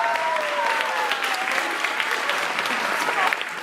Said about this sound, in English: Round of applause to all of those people